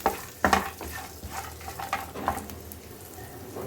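Peanuts half-roasting in a hot pan of oil, stirred with a few scraping knocks over a soft, crackling sizzle, fairly close and otherwise quiet.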